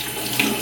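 Sugar wax dough being worked by hand in water, heard as continuous close splashing and sloshing, alone with no voices.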